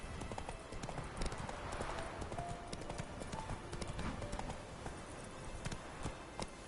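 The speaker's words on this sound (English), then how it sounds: "iremos a caballo" Horse hooves clip-clop in a steady quick gallop in The Witcher 3, a continuous drumming rhythm over game ambience, moderately loud throughout with no talk.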